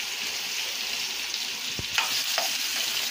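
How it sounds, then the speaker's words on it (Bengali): Potatoes with a little turmeric frying lightly in oil: a steady, close sizzle broken by a dull tap and two short scraping stirs of a utensil. "আলুগুলো আমি হালকা করে ভেজে নেব।"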